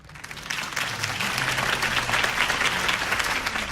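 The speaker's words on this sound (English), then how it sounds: "If only Mr. Wayne, my campaign's largest backer, could have heard that applause" A crowd applauds after a campaign speech for Harvey Dent, clapping rising quickly from quiet and holding as a steady, moderately distant wash of claps with a low murmur underneath.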